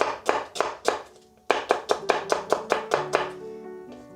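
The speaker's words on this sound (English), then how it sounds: "I'm gonna cut an onion up" A knife chops an onion on a cutting board in steady, sharp strikes, about a dozen close thuds in quick rhythm with a short pause partway through.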